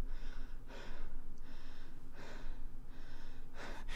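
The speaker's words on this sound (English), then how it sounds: "If you wonder why I'm breathing heavily" Heavy breathing from someone winded after a victory dance: loud, close gasps and snorting breaths in an uneven rhythm, with bursts of exhaling between quieter pauses.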